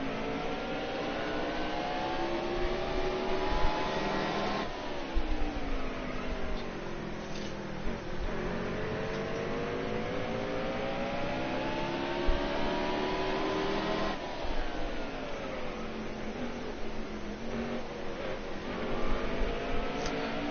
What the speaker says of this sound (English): listen to my engine sounds, you'll hear what I'm talking about as far as trying to throttle as much as I can